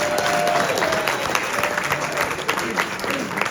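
An audience at a Friendly Sons of Saint Patrick Man of the Year event applauding steadily, a dense, continuous patter of clapping filling the room.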